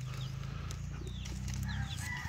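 A native Tagalog chicken crows and clucks in a backyard coop, a few short calls at moderate distance over a steady low hum.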